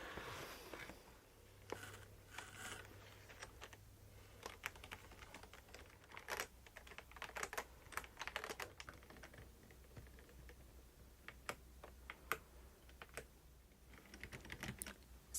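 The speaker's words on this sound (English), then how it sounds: "So this is a wireless RGB keyboard with tri-mode connection" Fingers type on a wireless RGB keyboard with tri-mode connection, a close, soft patter of irregular key clicks with occasional quicker bursts, heard alone in a quiet room.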